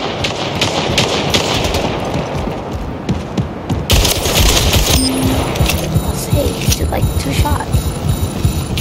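Rapid gunfire from a first-person shooter video game, Splitgate, with dense bursts of shots over a throbbing hum and a tonal game sound entering midway.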